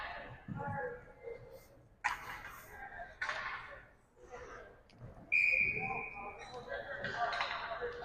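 A referee's whistle shrills at a college ice hockey game between the Royals and Kutztown. One steady blast rises over muffled arena noise, rink thuds and crowd murmur.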